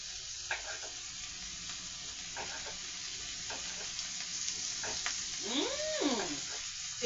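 Turkey sausage and cabbage sizzle steadily in a frying pan, a close, constant hiss broken by brief stirring clatters and a short squeaky chirp near the end, with no talking.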